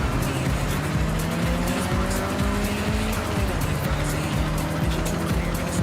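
A car in a racing video game slides under the handbrake, tires squealing and skidding loudly over a steady engine roar for several seconds.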